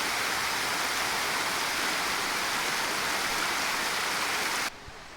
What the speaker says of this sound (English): Another beautiful water fountain